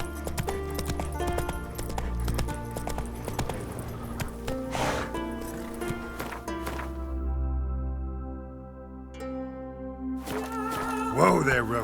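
Galloping hooves of the horse Roach pound steadily in The Witcher 3, close and rhythmic under game music, with a voice speaking briefly and a snort or whinny near the end.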